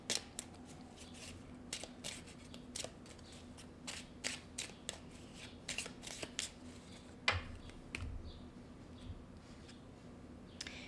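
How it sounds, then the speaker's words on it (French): Tarot cards being shuffled and handled at close range, with a steady run of soft papery flicks and snaps, some brisker riffles and a few sharper taps against a low background hum; no one speaks. "Je vais aller vous chercher une carte de temps si vous avez une question."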